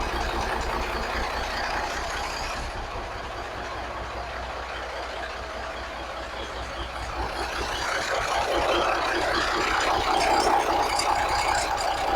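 A 1983 Kenworth cabover truck engine idling steadily, a dense low rumble with a faint rattle that swells slightly near the end, close and continuous without voices.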